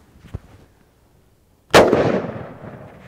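A single loud rifle shot from a Browning BLR lever-action chambered in Win Mag, firing Federal 150-grain soft-point ammunition, a sharp crack with a long decaying boom; a faint click comes before it.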